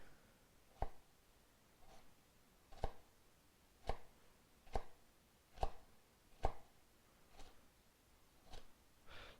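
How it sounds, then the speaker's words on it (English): Knife chopping through an onion on a cutting board, with about nine sharp, evenly spaced cuts close to the microphone and no talking. "So this is the same way you would cut an onion. Going to make little cuts down. And cut it this way."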